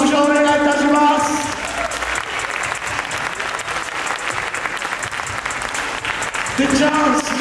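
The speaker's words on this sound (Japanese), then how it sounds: "皆さん、大きく大きく拍手をお願いいたします。" A crowd at a classic physique bodybuilding contest in Tokyo claps loudly, a thick wash of applause that swells under an amplified announcer's voice at the start and end.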